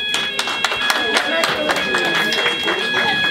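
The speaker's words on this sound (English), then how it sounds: "And I have a round of applause" Audience round of applause at Princess Aderonke's 50th birthday celebration, a steady patter of hand claps from a crowd, fairly close and continuous, with tonal background music or feedback running underneath.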